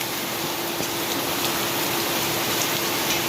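Heavy rain pours onto a village street where runoff water flows along, making a steady, close, dense hiss that holds evenly throughout with no voices.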